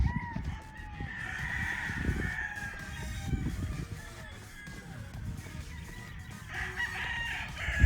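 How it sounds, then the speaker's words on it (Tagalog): A Golden Boy brood stag rooster crows at moderate distance over rustling farmyard background noise, its call rising and stretching across several seconds. "Oh, ito yung patatlong brood stag na Golden Boy mga paps."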